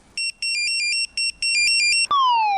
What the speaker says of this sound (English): the alarm sounds for the second time that day